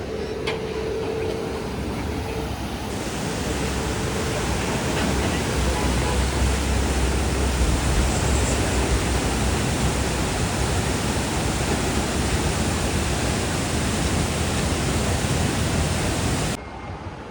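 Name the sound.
flowing river water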